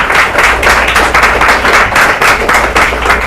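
Audience applause at a Unity of Kona church service, loud, close and continuous, with rhythmic bursts of many hands clapping in unison.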